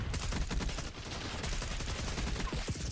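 Rapid automatic gunfire in Black Ops 6 multiplayer, dense repeated shots in quick bursts that run nearly continuously throughout, loud and close with no voices.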